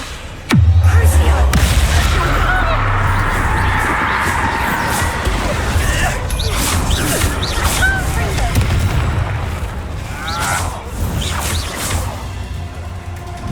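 Bombarda explosion spells cast in combat in the video game Hogwarts Legacy, opening with a sharp loud bang followed by a sustained booming, crackling roar of blasts and whooshes, with brief voices mixed in.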